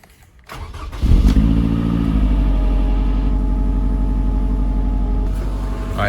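A 2015 Scion tC engine cranks and catches after sitting, settling into a loud, steady idle with a deep droning rumble. The idle holds close and even, with no voices.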